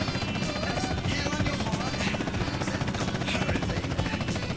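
A helicopter rotor in the video game GTA San Andreas makes a steady, loud chopping drone with a dense whir and rapid pulsing that holds without pause.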